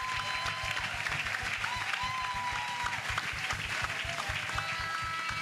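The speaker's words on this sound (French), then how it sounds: "Clap very hard, very strong for Jesus." A crowd at an outdoor Christian crusade in Bafoussam claps hard and steadily for Jesus, sustained dense applause with rhythmic beats throughout, loud and continuous with no break.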